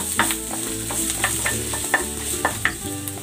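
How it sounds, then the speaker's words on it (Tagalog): Ginger sizzling as it sautés in hot cooking oil in a pan, a steady frying hiss broken by repeated sharp clinks and scrapes of a utensil stirring, close and with no talking. "Maglalagay ako ng cooking oil. Igigisa ko na tong luya."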